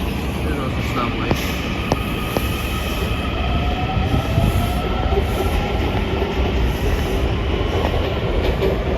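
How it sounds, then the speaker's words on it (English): A subway train rumbles past up close, its steady clatter carrying faint wheel squeals and a high electrical whine, with no talk over it. "Subway."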